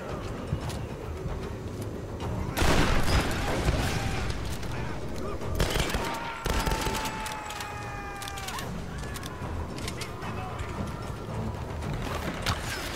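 Grenade explosions and gunfire in a video game, several heavy blasts and scattered shots breaking through a continuous rumbling battle background, with a voice talking over it.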